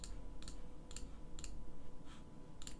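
Mouse clicks on a computer while adjusting calendar settings, a handful of light, sharp clicks spaced at roughly half-second intervals over quiet room tone, with a louder click at the very end.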